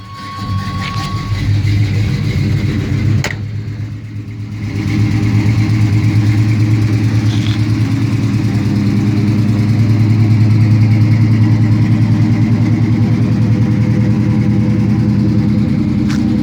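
A 1984 Chevy Silverado C10 pickup idles steadily up close, its engine a deep continuous rumble with the ragged puffing of an exhaust leak. After a short dip around four seconds the sound grows a bit louder and holds.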